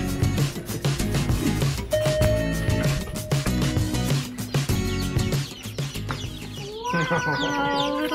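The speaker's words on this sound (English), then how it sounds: "We got chickens now." Hens clucking and chattering among a busy mix of sounds, with a voice briefly present; a few higher bird calls toward the end.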